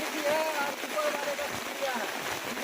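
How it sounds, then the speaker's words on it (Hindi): Heavy downpour in Madhubani, a steady broadband hiss of rain on surfaces with running water, continuous and fairly close throughout, with voices talking faintly underneath. "झमाझम बारिश हो रही है जो आप देख सकते हैं"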